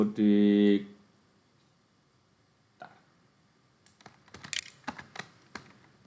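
Typing on a computer keyboard while formatting a Word document: after a brief loud tone, a sparse run of close key clicks and taps in small irregular clusters over near silence.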